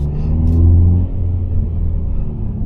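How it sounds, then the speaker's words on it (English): A 2024 Hyundai i30 N engine roars hard in a sustained launch-control start at night, deep rumble swelling loudly then settling into a steady throaty drone, with no talking. "I'll do one final launch control and we'll call it a night"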